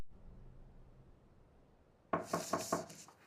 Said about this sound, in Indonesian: Kemudian pintu diketuk.